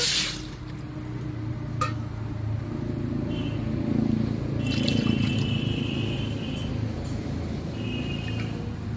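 Water pours steadily into a pot for making sweet mango yogurt from powdered milk, a continuous rushing, gurgling stream with a few faint clinks, no voices.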